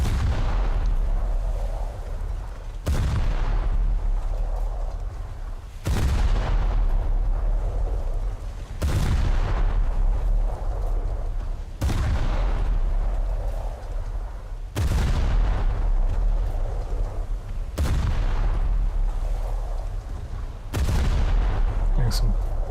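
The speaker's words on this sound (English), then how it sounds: "Getting some decent opening salvos on." Naval gun salvos in a naval combat video game, heavy booming blasts about every three seconds over a constant loud low rumble of engine and sea noise.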